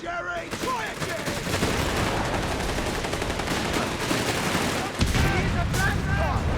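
Dense, continuous gunfire and battle noise from the World War II strategy game Company of Heroes 3, Afrikakorps campaign, rattling steadily at close range with shouted voices mixed into the din.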